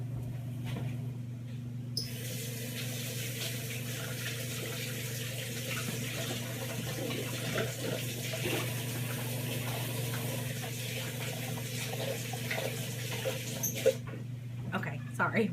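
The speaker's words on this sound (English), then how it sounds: "So let me wash my hands real quick." Tap water runs steadily into a kitchen sink while hands are washed during meatloaf preparation, a continuous close splashing hiss with a low hum underneath that cuts off near the end.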